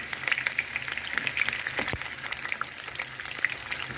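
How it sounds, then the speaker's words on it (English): Onions frying in a pan, a dense crackling sizzle that runs steadily throughout, close and fairly loud, with an occasional knock of the stirring utensil. "And stir, allow the onions to fry."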